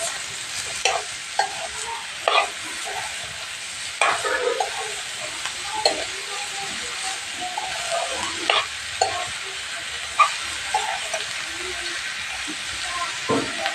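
Ridge gourd pieces frying in a pan are stirred, with scrapes and clacks of a utensil recurring every second or so over a steady, close-up sizzle that runs the whole time.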